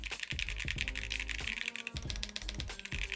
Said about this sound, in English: This feels great when I type.